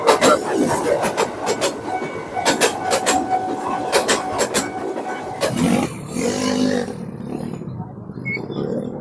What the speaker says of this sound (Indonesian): ini kereta dari arah Bogor menuju Jakarta